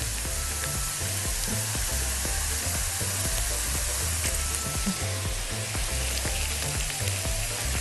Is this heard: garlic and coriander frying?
yes